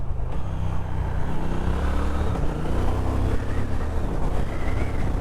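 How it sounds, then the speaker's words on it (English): A Triumph Speed Twin RS retro sports motorcycle fitted with a quick shifter and blipper drones its engine steadily and close, a dense continuous rumble with no voices over it. "it's got a quick shifter and blipper as well. I mean, a blipper on the Speed Twin"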